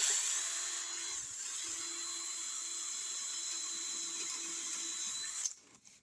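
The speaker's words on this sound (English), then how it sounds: "I'm going to take and drill that. And we'll drill it all the way around." A small power drill runs continuously with a 1/16 inch bit, boring a ring of holes around the edge of a stovetop part, a steady high whine that holds for about five seconds and then cuts off abruptly.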